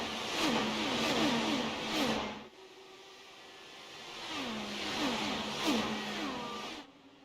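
Race cars in an IndyCar racing video game at Atlanta accelerate at the green flag, engines rising in repeated revving sweeps as cars pass close by, with a short lull in the middle and no talk.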